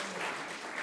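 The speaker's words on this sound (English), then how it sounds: "Yes, clap for yourselves." A book-event audience claps in a short, dense burst of applause at moderate volume, with no voices on top.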